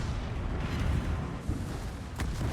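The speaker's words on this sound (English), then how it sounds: "Okay, burst fire on." Guns of the tier 9 Spanish battleship Victoria firing in burst mode in World of Warships: a loud, dense rumbling roar of heavy booms rolling together, with a sharper blast near the end.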